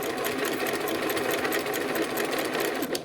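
A sewing machine runs steadily, stitching quilt block pieces together, a continuous close mechanical whir at a fast even rhythm with no talk.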